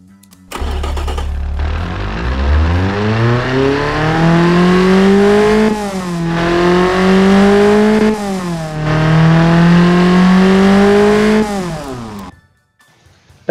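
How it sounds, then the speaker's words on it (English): A Ford Formula 1600 replica race car engine starts up and revs loudly and close, climbing through several sustained rising pulls with brief dips between, then cuts off near the end. "Now the engine is perfect."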